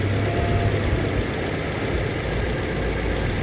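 A 2005 Toyota Innova G engine idling with the AC compressor engaged, giving a loud, steady close-up hum and drone with constant vibration and no talk.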